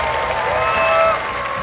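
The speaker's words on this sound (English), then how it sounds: "Please give him a big round of applause." An audience at the Xiaomi and Gran Turismo collaboration launch gives steady, dense applause that swells briefly and then eases.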